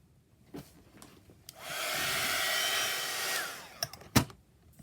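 A handheld hair dryer blows over a craft journal page, switching on with a steady whooshing roar for about two seconds before cutting off, framed by small handling taps and rustles.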